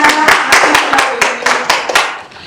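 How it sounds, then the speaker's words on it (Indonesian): Clapping during a marketing management class session, a handful of people clapping in an uneven rhythm of distinct, close hand claps that fades near the end. "Terima kasih tepuk tangan buat Gia."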